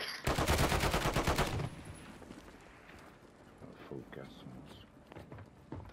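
Rapid bursts of automatic gunfire from a Call of Duty match, loud and dense for the first second and a half, then fading into quieter scattered shots and movement noise.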